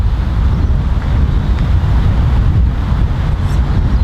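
Strong wind roars and buffets the microphone on a golf course, a steady loud rumble with no break and no other sound standing out.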